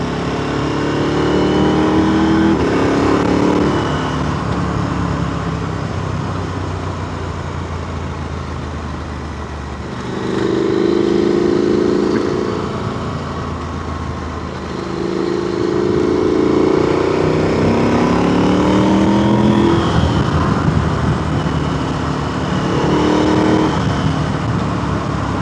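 Motorcycle engine under way on winding roads through the Ayrshire Alps near a wind farm, a steady loud drone that rises and falls in pitch as the rider eases off and slows, with wind rush throughout and no talking.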